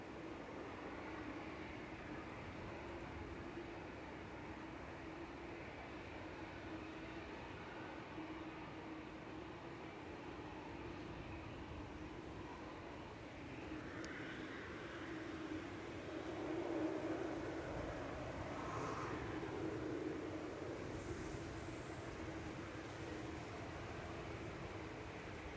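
A TUI Airways Boeing 737-800 airliner at Manchester Airport gives a distant, steady jet roar that swells slightly partway through, faint and continuous, with no voices.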